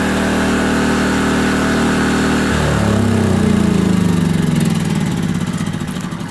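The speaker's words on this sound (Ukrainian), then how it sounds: "Це один з самих тихих генераторів." A GTM R2000IS 2.0 kW inverter generator runs steadily and close by, its hum shifting to a different engine note partway through, with no talking.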